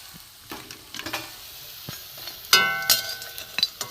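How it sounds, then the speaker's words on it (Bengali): Drumstick flower pakoras fry in a little oil, a close, gentle sizzle punctuated by sharp spatula clinks and scrapes, louder bursts of crackle near the end, no talking. "ভাজা হচ্ছে বন্ধুরা, একটু দেখুন।"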